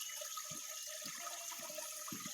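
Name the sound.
small river stream flowing water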